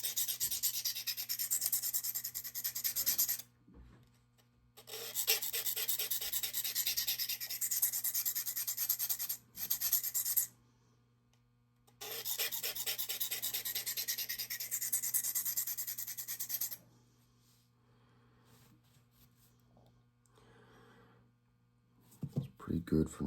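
A knife drawn across a DMT coarse diamond pocket stone: three long bursts of rapid, close, raspy grinding strokes, separated by short pauses and a quieter stretch near the end.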